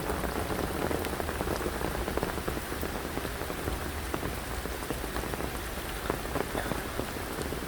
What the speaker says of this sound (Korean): 정말 오랜만에 이렇게 비가 많이 오는 걸 이렇게 경험하게 됩니다